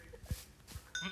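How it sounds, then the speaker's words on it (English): A Minecraft goat bleats in short, faint cries amid game sounds, with a brighter chiming tone at the end. "That's the goat."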